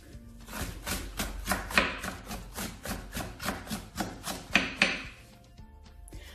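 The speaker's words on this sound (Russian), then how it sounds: "Капусту мелко шинкуем." A knife finely shreds young cabbage on a wooden board, with about twenty quick, even chopping strokes in a steady rhythm up close. The cuts are crisp and moderately soft, with no talking.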